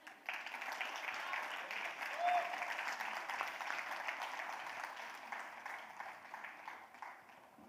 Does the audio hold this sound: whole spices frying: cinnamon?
no